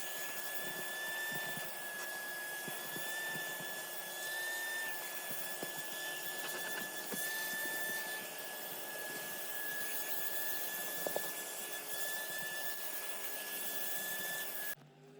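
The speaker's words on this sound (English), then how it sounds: "agitating that debris up to the surface so you can vacuum it out" A vacuum cleaner runs steadily inside a Dodge Challenger SRT-8 during interior detailing, a constant whining drone with a high tonal hum and small scraping knocks as the nozzle moves over surfaces.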